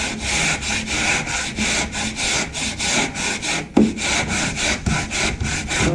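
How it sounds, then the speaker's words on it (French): Mesh sanding grid rubbed back and forth over plasterboard by hand, a steady run of close, rasping strokes in even rhythm with a brief knock partway through. "Alors ici, je vais gratter, je vais poncer."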